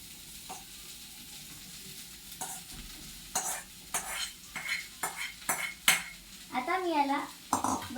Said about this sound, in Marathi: आता मी याला बरोबर परतून घेते